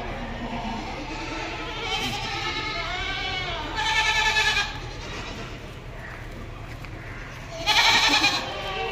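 Goats bleat repeatedly at a busy goat market in Deonar, with several strong, wavering cries rising above a steady crowd murmur and distant chatter.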